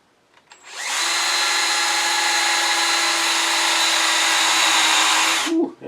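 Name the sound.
drilling a hole in scrap wood with dull bit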